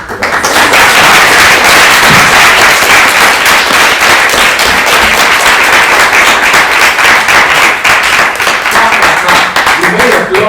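Loud, sustained audience applause fills the room after a lecture on Christian atheism, a dense wash of clapping that holds steady throughout with scattered voices mixed in.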